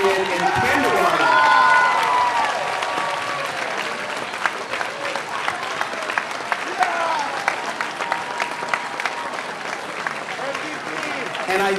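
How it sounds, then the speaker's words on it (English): Audience at a high school senior awards night giving a round of applause, sustained clapping with a few cheers and a brief tonal sound early on, tapering slightly toward the end. "Please stand and give Connor Manugian a round of applause for never missing a day of school"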